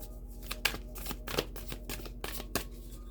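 Several short, crisp bursts of large tarot-style cards being shuffled and riffled, spaced irregularly, heard close up against a quiet background.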